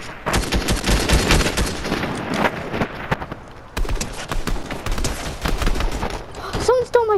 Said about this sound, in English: I hear there's this gunshots here. There's just a lot of guns.